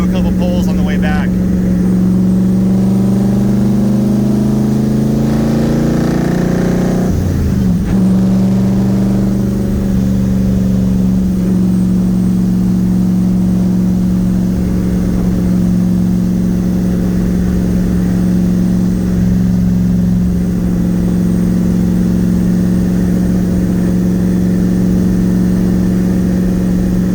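A Nissan 300ZX IMSA widebody with a twin-turbo VK56 engine, heard from inside the car as it cruises and then pulls hard. A steady droning engine tone rises in pitch, drops at a gear change and continues under someone speaking.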